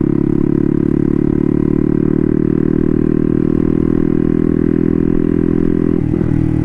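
A turbocharged Honda Grom with a swapped-in CBR engine, running highway gearing on a cold day, gives a loud, steady, close engine drone that holds even throughout and dips only briefly near the end.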